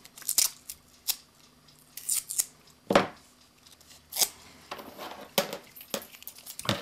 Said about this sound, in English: tear off some masking tape.